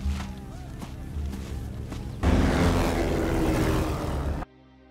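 A plane flies overhead in a film scene about drug packages being dropped from the air: a loud, rough engine roar that swells abruptly partway through, then cuts off sharply at the end.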